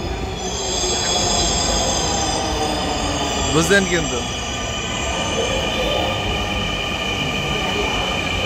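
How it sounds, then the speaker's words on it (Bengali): A Dhaka Metro Rail train arrives at the platform with a continuous loud rolling rumble and a sharp, wavering wheel squeal near the middle. Someone speaks briefly over the noise. "এই যে মেট্রো রেল আমাদের সামনে এসে"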